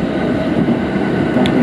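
A Yokosuka Line train pulling into Ofuna station gives a loud, steady rumble of wheels and running gear that holds at one level throughout, with no voices.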